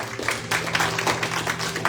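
A church congregation applauding together, producing dense, continuous clapping at a moderate distance over a faint low hum.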